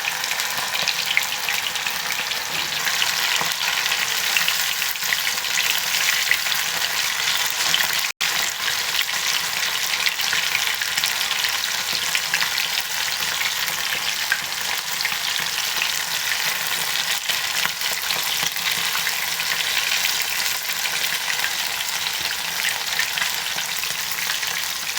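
Fish sizzles in hot oil in a pan, a steady bright crackling hiss that carries on for the whole stretch, close and even, with one brief dropout partway through and no voices.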